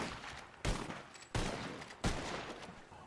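Three heavy gunshots ring out in the RedM video game, spaced roughly evenly, each hitting hard and then decaying into a long, noisy tail. The shots sound close and there is no talk.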